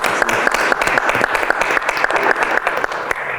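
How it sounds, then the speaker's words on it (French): Studio audience applause on a television talk show set, a steady, loud burst of many hands clapping that continues without a break for a few seconds. "On applaudit encore une fois, mesdames."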